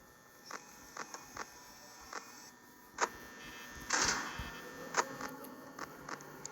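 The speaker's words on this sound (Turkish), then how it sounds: "Şu vantilatör de durmuyor." An electric desk fan whirs steadily in the office of the horror video game Five Nights at Freddy's, with scattered sharp mechanical clicks and one brief louder rattling burst over the constant hum.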